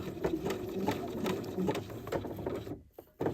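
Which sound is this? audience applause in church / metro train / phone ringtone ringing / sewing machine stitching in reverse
sewing machine stitching in reverse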